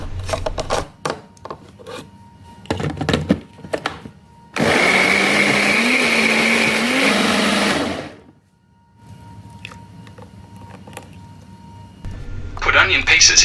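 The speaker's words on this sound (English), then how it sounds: "Put tomato pieces into blender and blend until smooth juice." An electric blender whirs loudly and steadily for a few seconds as it purées tomato pieces into smooth juice, with chopping and handling noises before and after it and a voice talking nearby.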